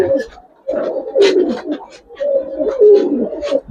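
Gribaz coloring pigeons cooing inside a loft, two long, close, throaty coo phrases rising and falling with brief pauses, loud and clear with faint background chatter.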